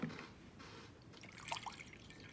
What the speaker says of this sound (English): pour in a little bit of water in there